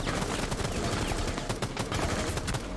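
Rapid single-fire gunshots from a rifle in the console shooter Rainbow Six Siege, a dense, loud run of sharp cracks stacked close together with no pauses or talk.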